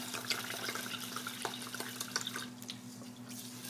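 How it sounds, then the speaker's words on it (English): Water is poured from a container into a pot of rice, giving a faint, steady splashing and trickling pour that runs for several seconds with small bubbling accents. No one speaks. "Pour the water in."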